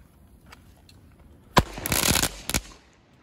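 A sharp blast from a Katana firecracker followed by a rapid burst of crackling pops, then one more quick double crack, loud and close against quiet surroundings, during San Juan celebrations.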